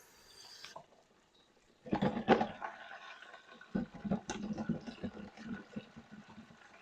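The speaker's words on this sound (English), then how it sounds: "Let me rinse out the spoon so I can mix the string beans." Spoon rinsed under a running kitchen tap during dinner prep, brief bursts of splashing water separated by quiet gaps, close and fairly soft.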